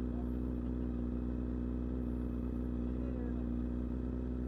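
A motorcycle engine fitted with an exhaust silencer and catalytic section runs at a steady idle, a continuous droning hum at moderate level with no clear revving.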